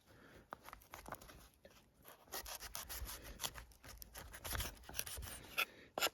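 Badger Outdoor D2 Orix folding knife with D2 steel slicing through rope, giving close, irregular bursts of fibrous rasping and scraping strokes that come in quick clusters with brief pauses between them.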